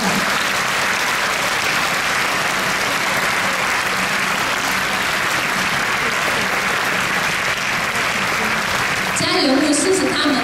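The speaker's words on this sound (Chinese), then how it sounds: "我想给他们一个鼓励的掌声吧" A church audience at a Methodist conference prayer seminar claps together in loud, sustained applause that fills the whole stretch and swells slightly near the end.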